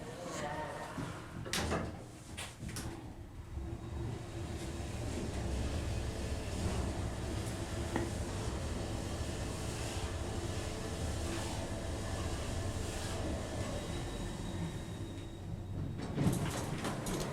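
Early Otis Series 1 traction elevator at a Holiday Inn tower: the doors slide shut with a couple of clunks, then a steady low hum and rumble of the car riding. Faint voices speak near the start and end.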